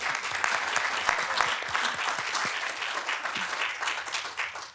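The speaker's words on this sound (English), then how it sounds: "I think we actually should give them all of a round of applause first." Audience applause at an annual reconciliation lecture at Swinburne, a dense sustained wash of many hands clapping at steady loudness, tapering slightly at the end, with no talk over it.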